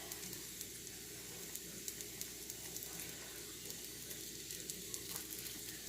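Crumbled sausage sizzles in a frying pan, a soft continuous hiss dotted with small crackles and pops, quiet and steady with no talking.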